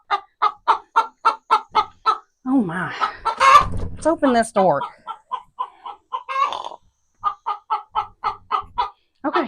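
Hens clucking in a backyard coop in quick rhythmic bursts, a near, busy flock with one louder squawking outburst in the middle, while a person speaks briefly close by.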